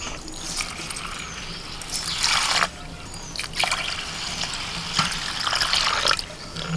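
Rice is rinsed by hand in water in a home kitchen, ahead of making vegetarian biryani. Close-up trickling and splashing come in several swelling bursts, with quieter dribbling between them.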